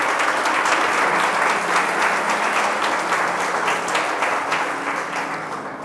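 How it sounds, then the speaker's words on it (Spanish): A church congregation applauds during a Sunday morning service, a steady, dense wash of many hands clapping that stays loud and continuous throughout before easing slightly at the end. "Dale un fuerte aplauso a Dios en esta mañana"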